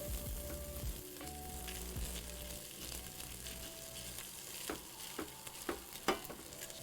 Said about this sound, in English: now we know that we're toasting the rice